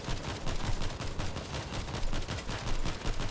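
Rapid gunfire in the zombie shooter World War Z, a dense stream of repeated shots with steady rhythm, sustained and fairly loud, with no speech.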